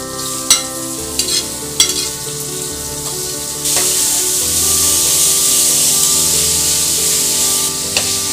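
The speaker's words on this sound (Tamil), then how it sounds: "இஞ்சி பூண்டு பேஸ்ட் போட்டு 1 நிமிஷம் பொறுத்து தக்காளி நம்ம சேர்த்துக்கலாம்." Ginger garlic paste frying in a pan for mutton paya, a steady bright hiss of sizzling oil with a few clinks of a stirring spoon near the start and end.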